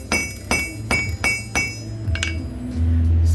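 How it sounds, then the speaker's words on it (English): A hammer strikes a metal clip down onto a half-inch rebar coyote trap on a farm, giving five sharp, ringing metallic blows about half a second apart, close and loud, followed by a steady low hum. "Smashing that clip down so it won't come out."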